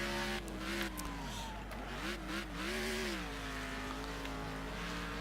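Race car engine in the Next Car Game racing video game revving and accelerating, its pitch rising and falling through gear changes, loud and steady throughout with no talk over it.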